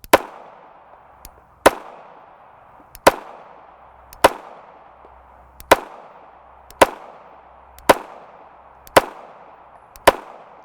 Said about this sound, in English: So I want to start putting rounds through this gun to see if we can find any failures with it.